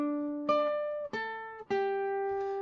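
Electric guitar picks a few notes of a riff on the third string, three clear sustained plucks in a slow rhythm, each note ringing out alone.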